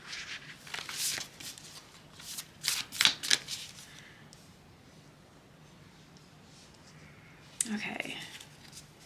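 Tarot cards being shuffled up close in a few quick riffling bursts, with quiet pauses between and another short shuffle near the end.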